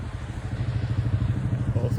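A farm tractor engine running close by after being started for a pressure check, giving a steady low chugging idle with a quick, even pulse.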